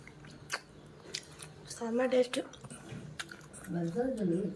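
Close, wet chewing of oil-free pork curry gravy, soft squishy mouth sounds and smacks in an irregular rhythm, with a voice talking at times in between.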